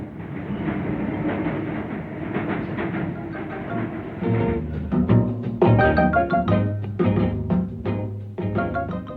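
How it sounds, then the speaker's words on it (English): British-built locomotives haul goods trains across New South Wales in 1959, their steady rolling rumble and rhythmic wheel clatter growing louder and more distinct partway through, with no voices. "British-built locomotives in New South Wales. These may well be hauling goods destined to go to Britain in return."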